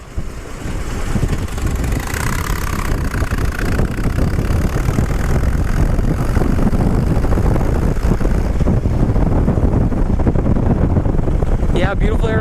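A Harley Davidson Switchback motorcycle rides on an Arizona road, its engine giving a loud, steady rumble under heavy wind buffeting for the whole ride.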